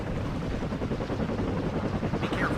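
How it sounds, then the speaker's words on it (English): Lynx helicopter in the real-time strategy game WARNO, a continuous rapid rotor chop and turbine drone with faint battle noise behind it, loud and steady throughout. "the Lynx helicopter is going to get taken out very shortly"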